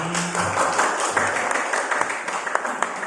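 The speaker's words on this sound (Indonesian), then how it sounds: "Lagi aplaus untuk Bu Novi" Seminar attendees applaud a speaker with a short burst of clapping, moderately loud and fading into scattered individual claps by the end.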